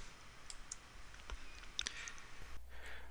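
Crisp computer mouse clicks sound a few times in a quiet room, sharp and close, with a short gap between a single click and a quick pair.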